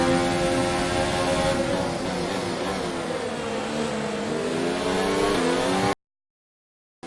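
An F1 car engine from F1 2019 powers on during a race, a loud continuous whine rising in pitch as it accelerates out of a wide line, cutting off abruptly near the end.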